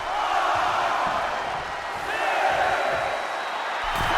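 Arena crowd cheering in the WWE 2K25 wrestling game during a Last Woman Standing match, a sustained roar that swells and dips, with faint whoops rising over the din.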